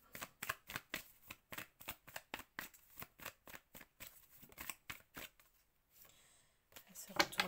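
Playing cards riffled and shuffled by hand, one side then the other, in a rapid run of crisp rhythmic bursts up close, pausing near the end before a final flurry.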